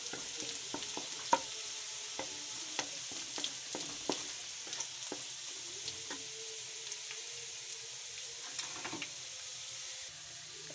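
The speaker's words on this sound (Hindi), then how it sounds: "इसमें हम अब प्याज डालेंगे, इनको ब्राउन कर लेंगे।" Onions fry in ghee, browning with a soft steady sizzle broken by frequent clicks and taps of a spoon stirring the pan, close and fairly quiet, without any talking.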